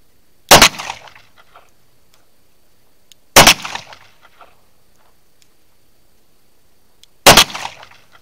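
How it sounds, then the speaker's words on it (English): Three loud, sharp gunshots from a Smith & Wesson Model 629 Competitor .44 Magnum revolver fired double action, spaced a few seconds apart, each a sudden blast with a brief ringing decay. "let's go ahead and try some double action shots"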